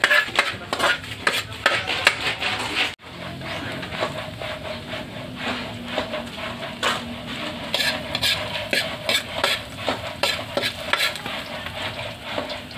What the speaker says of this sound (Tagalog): Bawang. Kailang ulit na pala tayo ng gisa.